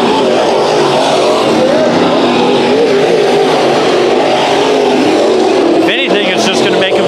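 Race cars run a heat race at Bakersfield Speedway, engines roaring loudly and continuously as they circle the track, with an announcer talking over the engine noise.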